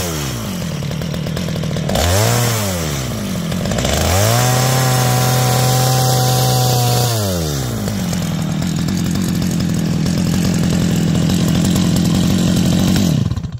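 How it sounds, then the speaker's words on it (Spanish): A chainsaw is pull-started after being cleared of a flooded engine. It catches and revs up and down in loud bursts, then settles into a steady, close idle and running drone until the end. "vamos a jalar repetidas veces hasta que la motosierra nos encienda de esta manera."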